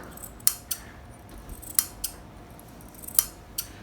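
Scissors snip notches through lining and main dress fabric, about six or seven sharp, crisp cuts at an irregular pace, close and clear over a quiet room with no talking.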